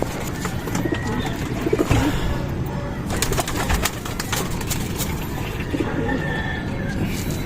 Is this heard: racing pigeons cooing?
yes